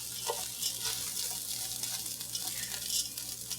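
Lentils frying in a pan give a steady close-up sizzle with broad hiss, and scraping stir and toss noises recur now and then through it.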